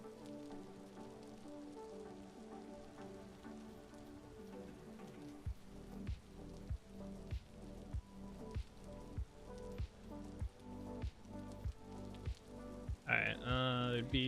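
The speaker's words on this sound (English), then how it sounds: "Here comes the rain." Rain patters steadily in the Vintage Story video game, a soft continuous hiss joined partway through by a regular series of sharp ticking impacts, with a brief brighter burst near the end.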